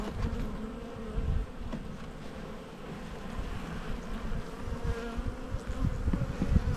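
Honey bees buzz steadily around an open hive during a colony inspection, a dense low drone that holds throughout at fairly even loudness.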